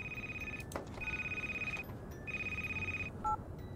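A phone ringing in a snowy video game, sounding as repeated steady electronic ring bursts, three long rings with short gaps, followed by a brief double beep at the end.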